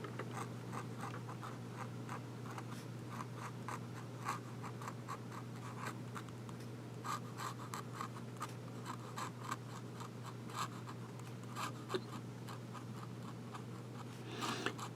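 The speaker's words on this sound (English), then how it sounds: "Now we'll do the reverse writing." A Faber-Castell Grip 2010 fountain pen writes with its nib reversed on paper, giving faint, close scratchy strokes in irregular bursts over a low steady hum, with no talking.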